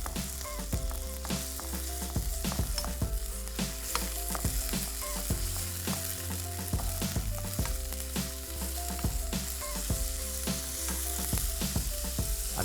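Chicken pieces with garlic and ginger fry in a pan, making a loud, continuous close sizzle with regular scraping and clacking strokes of a spoon or spatula.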